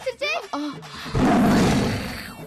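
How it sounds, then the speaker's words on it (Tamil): A lion's roar swells into a loud, rough, sustained growl that slowly fades, following brief excited talking by a voice just before it. "ஐயோ அக்கா, மிருகம்ல கத்த ஆரம்பிச்சிருச்சே"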